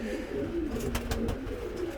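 King pigeons cooing inside a loft, steady low throaty coos repeating close by over a faint background hum, with no talking.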